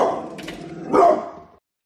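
A dog barks in a short burst, moderately loud and close, with a stronger bark near the middle before it cuts off, and no talking.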